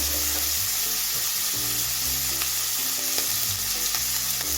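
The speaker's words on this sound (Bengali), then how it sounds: "দেখুন আমার মাংসটা ভাজা হয়ে গেছে আমার জলটা শুকিয়ে এসছে" Meat sizzles and fries in a pan as its released juices cook off, with steady stirring and scraping strokes repeating throughout, close and continuous with no talking.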